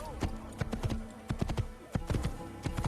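Horse hooves clip-clopping at a steady trot in the video game Assassin's Creed, a dense rhythmic run of close hoofbeats with a brief neigh early on and faint game sounds behind.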